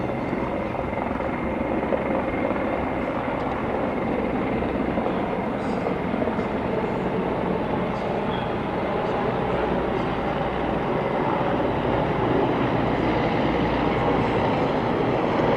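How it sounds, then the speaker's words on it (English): Military helicopters, a transport chopper leading attack helicopters, fly over in formation at an independence celebration parade, a loud continuous rotor drone holding steady for the whole stretch. "In the lead is the transport chopper, but in Tao are the attack helicopters that perform major operations in air support."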